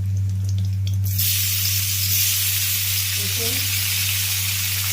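Chopped tomatoes hit a hot pan for a Bengali fish tok, sparking a sudden loud, steady sizzle after a second of low background hum that keeps frying evenly to the end.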